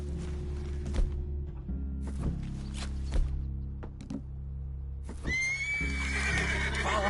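Horses in Red Dead Redemption 2 whinny and snort over a low steady hum, with a few thuds of hooves, then a loud, close neigh rises near the end.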